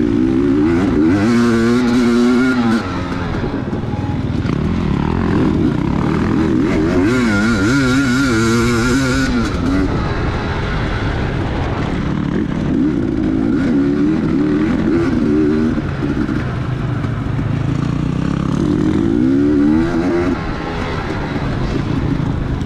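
Racing motorcycles on a dusty dirt track in an outlaw GP race, engines roaring loud and close with rising and falling revs as gears shift, buffeted by heavy wind noise throughout.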